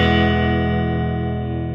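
A sustained electric guitar chord rings through a Fender Princeton amp set with reverb and vibrato, rich harmonics holding steady and slowly fading with a faint pulsing shimmer, alone and close.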